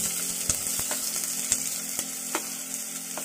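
Onion hits hot mustard oil over a medium flame in a pan, setting off a steady close sizzle broken by a few sharp pops and crackles.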